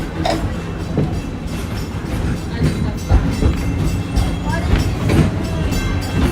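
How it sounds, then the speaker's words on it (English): Wildlife Express train rolling along at Animal Kingdom, a steady loud rumble of rail cars with rhythmic clickety-clack from the wheels and brief louder bumps, with faint voices mixed in. "Welcome aboard the Wildlife Express with service to Rafiki's Planet Watch."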